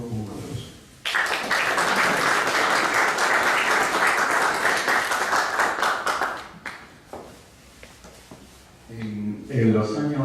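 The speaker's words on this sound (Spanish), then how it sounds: "Saludémonos con un aplauso" An academic audience breaks into applause, dense clapping from a room of people that runs for several seconds before thinning into scattered claps, with a voice speaking before and after.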